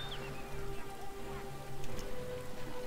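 Rain patters continuously from the Freezing Rain ability in the real-time strategy game The Lord of the Rings: The Battle for Middle-earth II – The Rise of the Witch-king, a steady hiss under tonal game sounds, with no talking.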